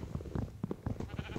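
Sheep bleat in the Minecraft video game, several short wavering calls overlapping in quick succession at moderate volume.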